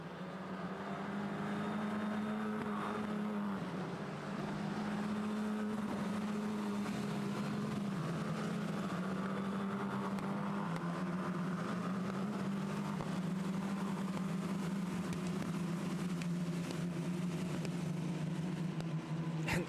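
Formula 4 race cars run at the Most circuit in the Czech Republic, their engines making a steady, faint, distant droning whine that rises and falls slightly and holds throughout.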